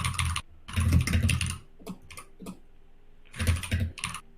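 A computer keyboard clatters with fast bursts of close, loud typing, three flurries of rapid key clicks broken by brief pauses and a few isolated taps.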